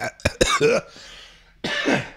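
A few sharp coughs in quick succession, close and fairly loud, followed by a brief pause and another rough, throaty cough.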